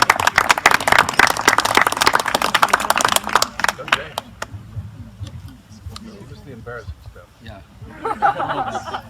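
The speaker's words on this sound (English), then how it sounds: "give him a nice big round of applause as he takes the mic" Wedding guests clap as the bride's brother steps up to the microphone, a dense burst of applause for about four seconds that thins out into scattered claps while voices murmur and chuckle underneath.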